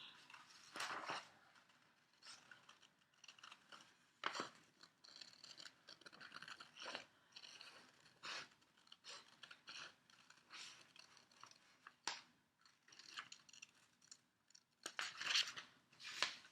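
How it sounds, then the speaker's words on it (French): Scissors cut around the outline of a paper egg shape in quiet, close snips and scraping, irregular but continuous, with no talking. "Je prends mes ciseaux et je découpe le contour de mon œuf."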